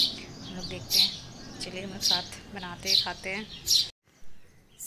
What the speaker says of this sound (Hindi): आप सुन सकते हो चिड़ियों का आवाज़